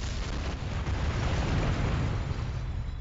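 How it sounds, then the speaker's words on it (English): A rumbling, continuous blast from a stock tank weapon firing in Kerbal Space Program, a dense low roar that holds steady for a few seconds without any voices. "to fire this weapon, you can either hit spacebar and have a lame effect, which I will show off now"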